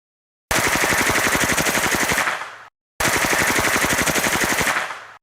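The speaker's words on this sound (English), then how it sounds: "that's an actual sound of a suppressed MP5" Two long bursts of rapid automatic gunfire from a suppressed MP5 SD submachine gun, each lasting about two seconds, fast and evenly paced with a muffled, clattering crack.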